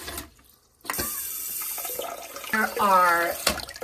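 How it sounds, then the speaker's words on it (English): Water from a Hibbent bidet attachment nozzle sprays steadily in a hissing stream and patters into a mason jar, with a brief tonal whine partway through. "You can see it coming down and spraying into the mason jar."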